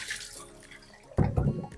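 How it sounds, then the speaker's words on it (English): Water poured out of a bowl after washing raw chicken breast, splashing into a sink in a short, close burst after a quiet moment. "Pour out that water."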